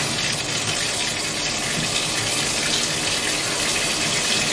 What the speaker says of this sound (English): So I'm gonna go ahead and run the water.